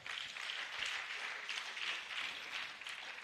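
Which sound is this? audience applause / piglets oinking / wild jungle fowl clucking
audience applause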